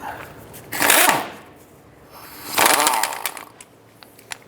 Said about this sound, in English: Using a 21mm socket, go ahead and remove the nut off of the ball joint.